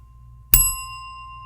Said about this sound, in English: I was ringing the bell.